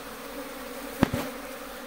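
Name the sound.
swarm of Asian honey bees (Apis cerana indica)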